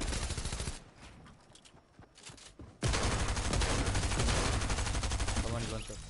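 Rapid SMG fire in a video game, sparse and softer at first, then bursting into a loud, sustained stream of shots that runs to the end, with faint voices underneath.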